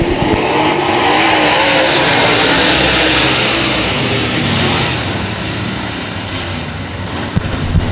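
Nine race cars roar away at the green flag of a short-track speedway heat, a dense, loud, continuous engine drone with broad noisy wash that eases slightly near the end.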